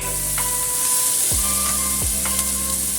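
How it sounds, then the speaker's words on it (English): Lamb slices stir-fried in a hot wok, giving a loud, steady sizzle throughout with faint scraping from stirring, close and continuous, with no talking. "Then add in the lamb slices. Stir fry a little bit."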